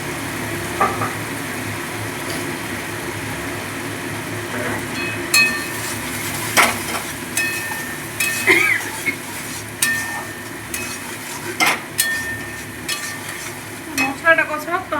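Spice paste (masala) frying in oil while being stirred, a steady close sizzle broken by repeated scraping and clinking strokes of the spoon against the pan, getting busier toward the end, during banana-stem curry cooking.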